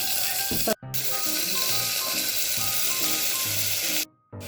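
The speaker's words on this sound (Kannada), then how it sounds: "ಈರುಳ್ಳಿ ಹಾಕಿ ಚೆನ್ನಾಗಿ ಮಿಕ್ಸ್ ಮಾಡಿ" Onion frying in a pan for tomato bhaat, with a loud, close, dense sizzle and stirring scrapes, cut off by two short breaks of silence.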